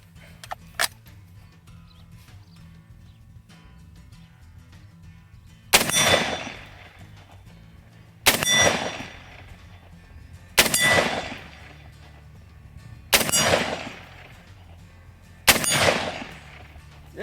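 Five sharp, loud reports from a Kel Tec SU16 .223/5.56 semi-automatic takedown rifle. They are fired one at a time with even gaps of about two and a half seconds, and each crack is followed by a short decaying echo.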